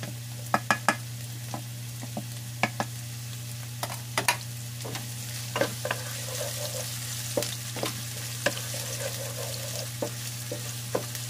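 Garlic fries in a pan as part of a fish escabeche, giving a steady soft sizzle under a low hum, with sharp clicks and taps of stirring scattered throughout.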